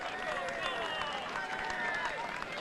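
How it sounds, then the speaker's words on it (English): Spectators applaud an Irish rider, Daniel Martin, at the Flèche Wallonne cycling race, a steady wash of clapping and crowd noise mixed with the chatter of a busy roadside audience, continuous and moderately loud. "Écoutez les applaudissements du public pour ce garçon qui nous vient d'Irlande, Daniel Martin"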